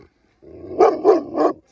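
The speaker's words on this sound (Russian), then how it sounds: "Ну, к нему тоже подходишь, он начинает рычать." Young Cane Corso growling at a dog show, a close low rumbling growl that swells into three rough pulses, heard alone.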